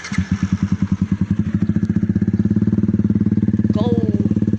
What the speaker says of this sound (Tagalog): kay mataas yung motor ni Christian